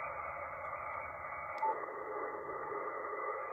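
A ham radio receiver with its DSP filter narrowed to 1.5 kHz gives off a steady, high-pitched tone over continuous band hiss. A short brighter blip cuts in partway through.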